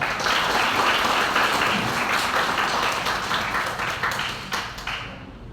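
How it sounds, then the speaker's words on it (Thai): Sustained audience applause at a Thai ceremony for a youth nation-building programme, steady and dense throughout, thinning slightly near the end. "ขอเสียงปรบมือครับ"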